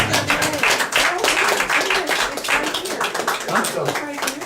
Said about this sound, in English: You need a round of applause.